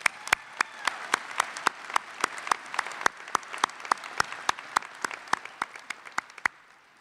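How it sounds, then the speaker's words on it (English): At a community college commencement, a small number of people clap for the faculty in a sparse, evenly spaced run of sharp individual claps, fairly close, with no talking. "Let's give a round of applause for our faculty."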